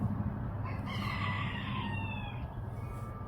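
A rooster crows once, a long drawn-out call over a background of chicken clucking, heard from some distance outdoors.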